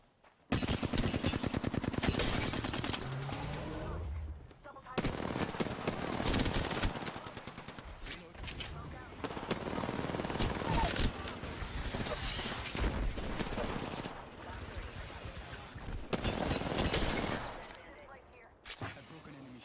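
Dense, sustained gunfire in an Apex Legends tournament match on the Olympus map, continuous bursts and volleys overlapping across the whole stretch with only brief dips in intensity, loud and busy throughout.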